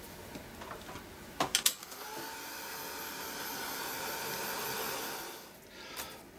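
A hair dryer blowing steadily on wet paint on a journal page, a continuous whooshing hum that runs for several seconds, preceded by a few brief clicks and handling knocks and easing off near the end.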